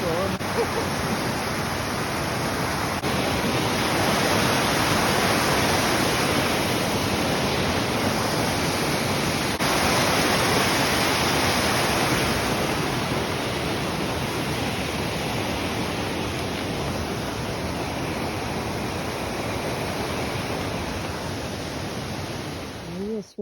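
A river rushes beneath a hiking-trail bridge on the Monadnock Sunapee Greenway, a loud, continuous broadband roar of churning water that holds steady throughout.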